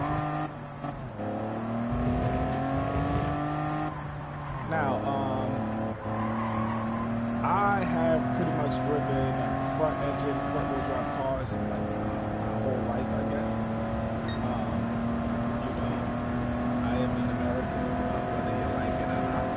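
Engine of a heavy 3,100-pound race car in a racing video game, droning and shifting pitch steadily throughout as it revs and changes gear, with someone talking over it.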